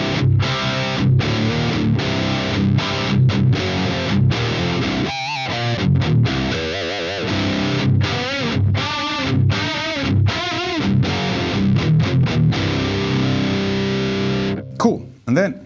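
Electric guitar through a Marshall JCM2000 TSL amp with Svetlana EL34 power tubes and JJ ECC83S preamp tubes, set for a JCM800-style tone. Loud, crunchy distorted chords and riffs with short stops between phrases.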